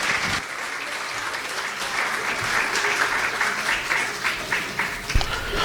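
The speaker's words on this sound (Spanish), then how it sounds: "Dan un aplauso al Señor" A church congregation applauds during a service, a dense, steady wash of many hands clapping at once that continues loudly for several seconds.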